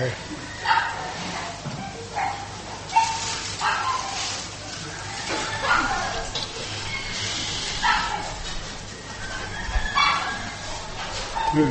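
Dogs bark in short repeated bursts at a temple, fairly distant and scattered over steady background noise, with someone speaking at times.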